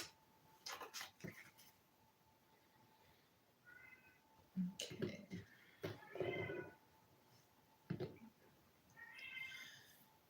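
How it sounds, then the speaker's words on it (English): A cat meows several times indoors, short plaintive calls spaced apart, fairly close but quiet, with a person speaking briefly between them. "Do you hear the cat?"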